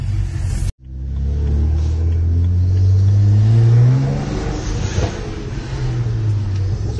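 Twin-turbo BMW 335i with N54 engine, new charge pipe and HKS blow-off valve, revving up after a brief cut, a loud deep rising drone that swells, peaks, then settles into a rumbling idle.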